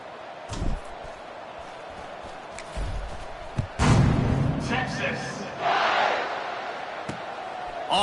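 A stadium crowd cheers at a football kickoff in a video game, a broad roar that swells in the middle with a dull thump, then holds at a moderate distance.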